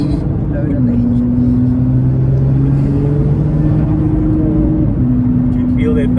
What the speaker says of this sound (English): Just trying to put some load on the engine.